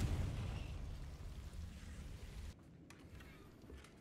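Confringo fire spell blast in Hogwarts Legacy, a loud rumbling burst at the start that decays over a couple of seconds, then cuts to quieter ambience.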